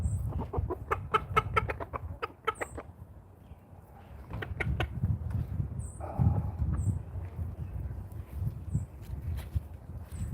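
Backyard chickens on a farm, with bursts of clucking and rooster-like calls early on, then softer scattered fowl sounds over a low rumbling background, fairly close.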